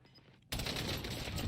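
Rapid automatic FFAR rifle fire in Call of Duty Warzone, a sudden dense burst erupting after a quiet moment and continuing loud and sustained to the end.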